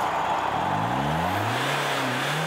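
A powerful monster truck engine roars and revs upward at a monster truck rally, its pitch climbing steadily as the heavy vehicle accelerates, loud and close for a couple of seconds.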